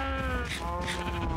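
Minecraft sheep bleating in a farm pen, a short wavering bleat with a second cry close behind it, near and clear over low game ambience.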